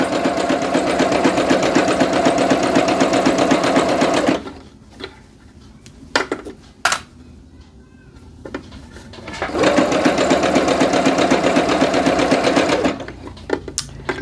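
A sewing machine runs a zigzag stitch through knit fabric for joggers at a deliberately slow speed: two steady, loud mechanical runs separated by a quiet pause with a few clicks and handling noises.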